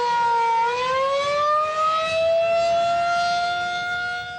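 An outdoor early warning civil defense siren wails loud and steady, its tone rising after a brief low start and holding a sustained howl throughout with no voices.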